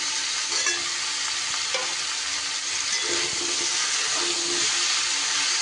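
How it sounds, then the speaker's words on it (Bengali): Eggplant and mixed vegetables fry loudly in a pan, a dense continuous sizzle with occasional soft scrapes of stirring, close and steady with no talking. "বেগুনটাও দিয়ে এইভাবে একটু নাড়াচাড়া করতে থাকবো"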